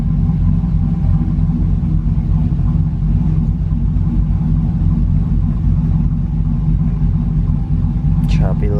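A Nissan S13's engine idles with a low, steady rumble close by, and a brief higher whine near the end.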